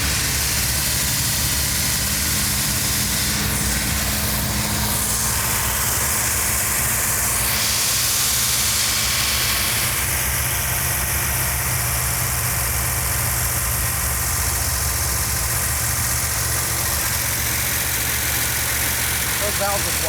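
A 1970 Dodge Challenger engine idles steadily with valve noise: a continuous low rumble with a hissy, ticking top end that holds throughout and shifts slightly in tone partway through.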